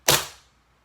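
A single Tokyo Marui HiCapa 5.1 airsoft pistol shot, a sharp close crack that decays quickly into silence.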